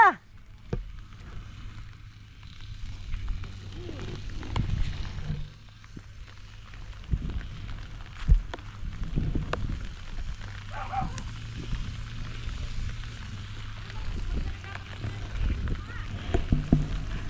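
Steady rain patters on surfaces throughout, a soft continuous hiss with occasional louder drips, while a person talks intermittently over it.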